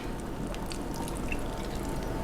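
A small splash of white balsamic vinegar is poured while making peach and tomato bruschetta, heard as a soft, close trickle with faint drips and no talk.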